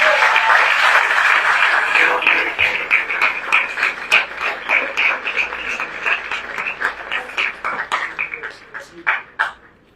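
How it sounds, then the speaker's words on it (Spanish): Church congregation applauding during a Spanish-language sermon on Hosea, a dense burst of clapping that thins into scattered individual claps and fades toward the end. "Un aplauso fuerte para el Señor."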